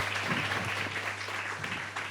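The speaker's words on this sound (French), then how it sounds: "On retrouve Mécène sous vos applaudissements" Audience applause greets a magician arriving on a French TV magic show. The clapping is dense and steady for about two seconds over a low hum, with no talking.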